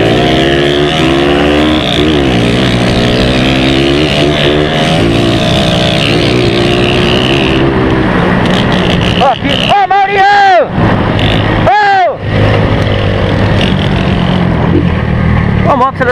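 A motorcycle engine revving on its own in muddy conditions, loud and continuous with rising and falling pitch, under excited voices and nearby talk.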